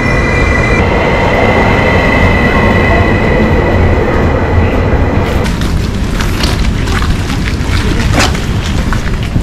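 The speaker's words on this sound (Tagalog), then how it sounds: "Train." Near Finland's airport in foggy weather, a train rolls past close by in a loud, continuous rumble, with wheel squeal and clattering rising near the end.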